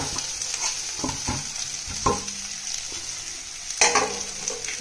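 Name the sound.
poha ingredients being sautéed in a pan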